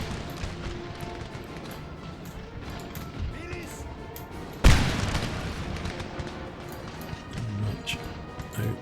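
Heavy artillery cannon fire booms in a Napoleon: Total War battle, one sharp loud blast midway followed by rumbling distant shots and crackling gunfire under ongoing commentary.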